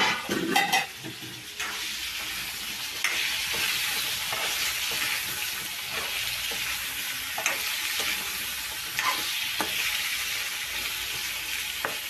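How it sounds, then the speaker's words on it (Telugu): Ivy gourds (tindora) fry in hot oil with a dense, continuous sizzle, broken by periodic scraping stirs and clicks of a utensil against the pan. "ఇప్పుడు ఆయిల్ మరిగిపోయింది, దొండకాయలు వేసుకుందాం."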